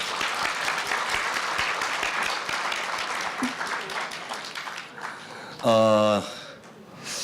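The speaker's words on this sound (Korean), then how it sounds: "우리 현역 기자들에게 뜨거운 박수 보내주시기 바랍니다" Warm applause from an audience at a Korea University campus newspaper's 70th anniversary ceremony, sustained steady clapping that fades out before a brief loud tone near the end.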